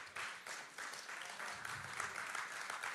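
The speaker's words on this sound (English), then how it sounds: "I know it's painful, but clap." A church congregation clapping during a sermon, a steady wash of many hands applauding together at a moderate, fairly distant level with slight swells.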